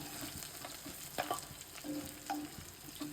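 Koi fish frying in hot oil for a pumpkin bori recipe, a steady close sizzle with soft crackles and a few scrapes and clinks of a utensil lifting the fish out.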